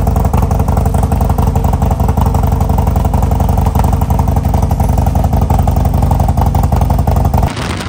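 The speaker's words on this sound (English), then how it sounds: "there is nothing like coming home to Mad Max" A Harley-Davidson motorcycle engine runs steadily at close range, a loud, deep, continuous rumble with a fast mechanical clatter throughout, cutting off abruptly near the end.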